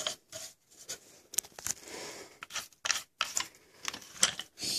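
Adjustment knobs on the stand of a double-head LED work light are handled, giving short clicks, rubs and ratcheting bursts. The sounds are close but quiet, broken by brief pauses, with no speech.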